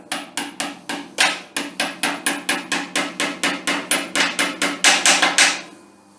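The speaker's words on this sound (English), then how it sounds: "tap in with a hammer" About twenty sharp hammer taps on a centre lathe during maintenance, in a steady, even rhythm, close and fairly loud, ending with a short pause and fading ring.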